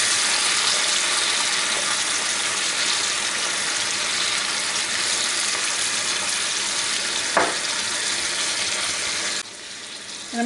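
Butter-fried apples with a splash of lemon juice keep up a long even sizzle, one sharp utensil knock near the end before the frying drops abruptly quieter, no one speaking.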